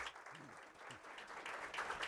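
A welcome round of applause from the audience at an education panel, with broad clapping filling the room steadily for about two seconds, a few voices faintly mixed in underneath.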